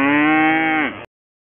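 A single loud moo from one of the cattle on a farm, a sustained low bellowing call lasting about a second before cutting off abruptly, with no other sound around it.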